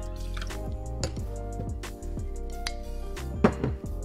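Blended scotch whisky is poured into a small measure, a short run of liquid trickle and drips, close and clear, with light clinks of glass.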